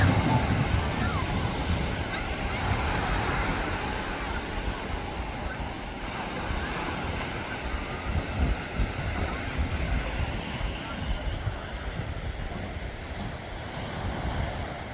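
Sea waves roll onto a wide beach below a steep cliff at Leonidovo–Sanzhiika, with a steady broadband wash and wind rumble that stays fairly constant and moderately loud for the whole stretch.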